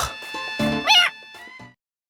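A cat meowing up close, a few drawn-out cries with one louder, higher call in the middle, then silence.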